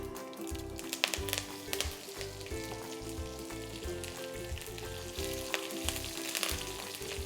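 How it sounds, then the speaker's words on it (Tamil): Mustard seeds, broken chili and curry leaves splutter in hot oil with a dense, continuous crackling sizzle, loud and close, scattered with sharp pops throughout; no voices are heard. "இந்த கடுகு பொரிஞ்சு கொஞ்சம் வரப்போ அந்த ஸ்டேஜில் ஒரு 20லேருந்து ஒரு 25 கருவேப்பிலை"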